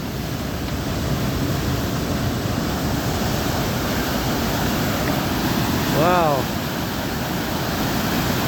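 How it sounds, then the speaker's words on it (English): A heavy gush of water pours out along the Appalachian Trail in the Mahoosic Notch, a loud, constant roaring rush close by, with a brief spoken exclamation over it. "Check out the amount of water coming out of this thing."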